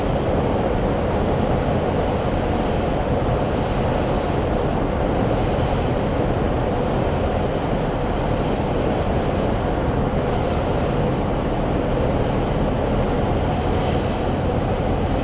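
Cabin of a Zenith light airplane on final approach with flaps fully down: a steady, loud broadband engine and wind roar that stays constant throughout, with no speech.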